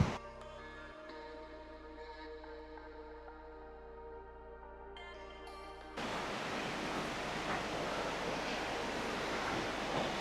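Hebbe Falls, a waterfall in a forest, roars as a broad, steady rush of white water. A softer tonal background gives way to a loud, continuous torrent for the last few seconds, with no talk.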